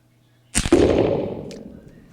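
A single 6.5 PRC rifle shot fired at a range cracks sharply and loud, then rolls into a long fading echo with a faint later ping.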